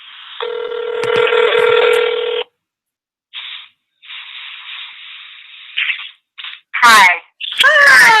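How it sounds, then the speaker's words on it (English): A phone places a call, with a steady tone followed by a few short bursts of ringback and electronic beeps, clear and close, ending in brief voices. "So I'm going to call Jacob's phone, and then at least we can have you on here"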